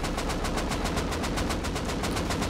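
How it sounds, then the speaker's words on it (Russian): Rapid sustained gunfire in the video game Rust, a fast even rattle of many shots in unbroken succession, fairly faint and distant, with no talking over it. "Столько выстрелов быть не может."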